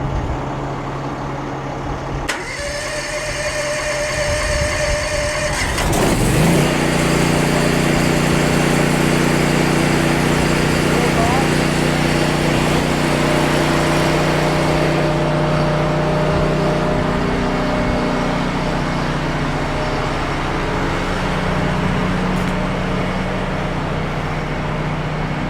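A petrol generator on a mobile shipboard trainer is pulled into life after a brief start attempt, then settles into a loud, steady running drone close by that continues for the rest of the time.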